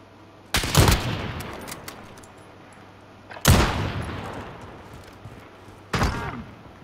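Shotgun blasts in the Call of Duty: Modern Warfare video game, three loud, sharp reports spaced a few seconds apart, each trailing off in a decaying echo, with no voices.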